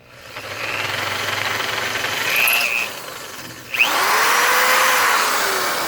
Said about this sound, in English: I'm using a drill so I can create the hole and make it a little bit bigger